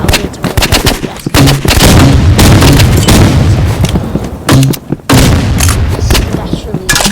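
A video game weapon fires a rapid, loud, nearly continuous barrage of booming shots and blasts, with brief pauses, and a faint voice can be heard underneath.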